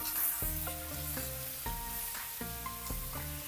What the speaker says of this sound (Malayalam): ഈ വഴന്ന സവാളയിലോട്ട് രണ്ട് ഇടത്തരം തക്കാളി അത് ഇട്ട് കൊടുത്തേ